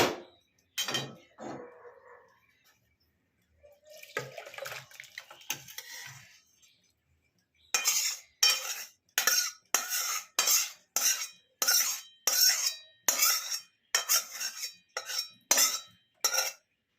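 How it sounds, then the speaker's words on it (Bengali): Oil-free pora masala chicken tipped from a pan into a serving dish, heard as a close, rapid run of regular scraping clinks of a utensil against the dish, preceded by softer scattered clatters and pauses. "এবার এই পাত্রেতে এটাকে ঢেলে দেব।"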